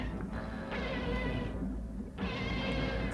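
A drawn-out, creature-like meowing cry from a giant movie monster, loud and close, rising and falling in two long phrases over a rumbling low backdrop.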